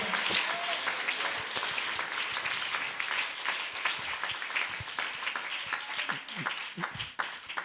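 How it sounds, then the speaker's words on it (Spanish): A church congregation applauds together, many hands clapping in a sustained, fairly distant roar with scattered sharper claps, some voices faintly mixed in. "Dele ese aplauso al Señor"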